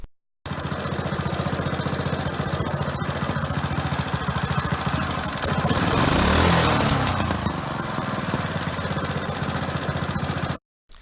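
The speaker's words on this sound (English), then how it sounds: "Shown here is a video of the engine running." Small engine from a physics experiment running steadily with a rapid, even chugging, swelling louder for a moment midway before settling back, then cutting off abruptly.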